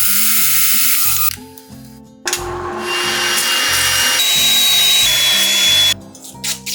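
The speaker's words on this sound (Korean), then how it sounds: "손잡이로 사용하기 위해 앞쪽의 투명 아크릴에 반원 형태의 구멍을 뚫었습니다." A power drill boring a semicircular hole into clear acrylic sheet, meant as a handle on a PVC-pipe parts drawer; the motor whines steadily in bursts with short pauses, fairly loud and close, with no talk.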